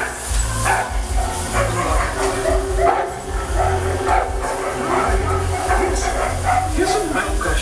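Dog barking and yipping repeatedly in a busy room, close and fairly loud, with a low rumbling background and people talking around it.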